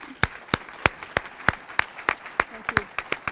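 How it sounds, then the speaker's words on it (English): Sparse, rhythmic clapping at a college event, evenly spaced sharp claps from a small number of hands at roughly three per second, close and distinct over a quiet room, with a faint voice underneath. "Please give him another round of applause"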